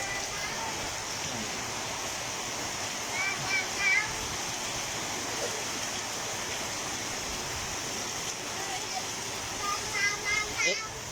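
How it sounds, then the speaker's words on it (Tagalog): Floodwater rushing steadily during continuous rain in Apalit, a broad constant wash of noise with faint voices and children in the background. "Pataas ng pataas ang tubig."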